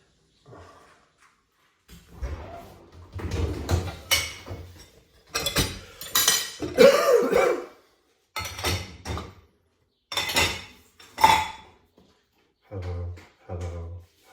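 Dishes being handled at a sink in the Algarve, with cutlery and pots clinking in repeated bursts of close, fairly loud clatter separated by short pauses.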